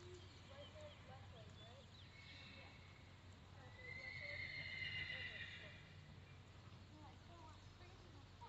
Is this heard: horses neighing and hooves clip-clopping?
yes